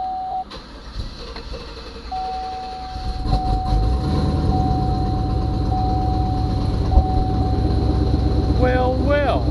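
A 2006 GMC Envoy engine, suspected of a burnt valve and misfire, cranks briefly, then catches and settles into a steady, fairly loud idle with a thin whine running over the rumble.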